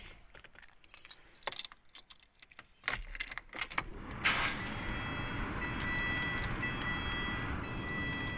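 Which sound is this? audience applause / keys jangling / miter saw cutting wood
keys jangling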